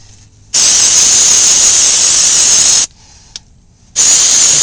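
Aerosol brake cleaner sprays onto a brake rotor in two loud, steady hissing bursts, the first about two seconds long, separated by a quiet gap with a faint click.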